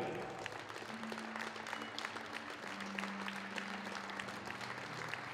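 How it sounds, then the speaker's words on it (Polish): Audience applause for the winner of the solo stylist category at the 2015 European Junior Championships final in Lubin, Poland, a dense, steady wash of many hands clapping throughout, with a faint sustained tone underneath. "raz jeszcze wielkie, wielkie brawa"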